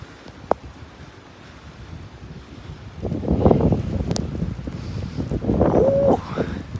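Strong afternoon wind gusts up to 45 mph roar and buffet against the microphone, quieter at first then swelling into loud rushing surges for the second half, with no voices.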